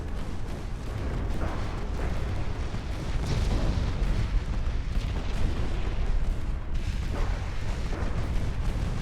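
Heavy cruisers and battleships pour a naval artillery bombardment onto an enemy ship in Ultimate Admiral: Dreadnoughts, a dense, continuous rumble of booming gunfire and blasts rolling on without pause.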